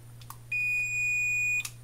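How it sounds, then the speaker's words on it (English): A steady, thin electronic beep from a small buzzer in a portable intruder alarm holds for about a second, preceded by a couple of faint clicks, over a low constant hum. "that's a little small beep, and that's coming from the buzzer"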